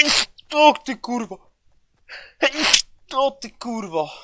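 A sudden sharp sneeze bursts out between stretches of close male speech, with a second loud breathy burst partway through the lively talking.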